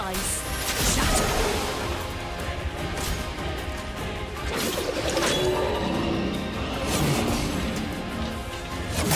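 Ice shatters in the video game Clair Obscur, with crashing, smashing impacts and whooshing bursts that repeat across a loud, dense stretch of game combat sound.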